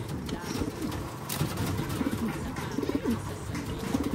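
Pigeons, including a checkered and a blue bar bird, cooing close by in a loft, with repeated low, throaty coos over a steady background of wind and rustling.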